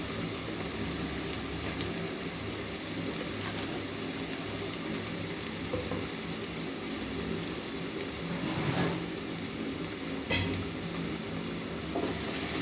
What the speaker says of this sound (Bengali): এখন আড়া চাড়া দিয়ে পেঁয়াজটাকে ভালো করে ভেজে নেব